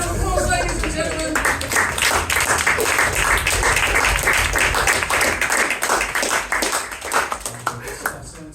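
Crowd at a hypnosis stage show at a fringe festival clapping loudly and steadily for a volunteer on stage, close, dense applause with a few voices and shouts mixed in, easing a little toward the end.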